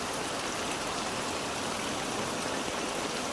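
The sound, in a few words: flood water and rain in the mountains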